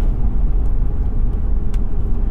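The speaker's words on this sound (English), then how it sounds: "We're going to pull out hard here, get straightened out, and then actually full throttle." 2021 Chevrolet Colorado ZR2 pulling out hard at full throttle while towing a trailer, a loud continuous low engine roar with road rumble and no talk.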